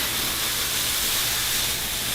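Steady, loud, close hiss of a steam iron pressing a hooked wool rug piece through a wet cloth, continuous without a break across the whole stretch.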